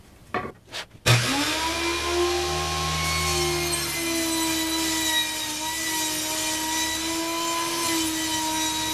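A power saw cuts a scrap wood strip, a few brief knocks giving way to a loud, steady whining drone that holds through to the end.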